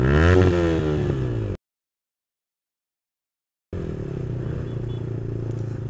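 A Yamaha R15 motorcycle with a full-system loud exhaust roars and revs with a rising engine note, cuts to silence, then returns as a steadier rumble while riding.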